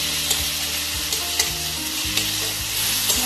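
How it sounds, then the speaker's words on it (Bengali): Powdered spices, including coriander powder, sizzle in hot oil in a pan as a spatula stirs and scrapes them in short repeated strokes; steady, close frying with no voices. "আবার একটু নাড়াচাড়া করে নিই"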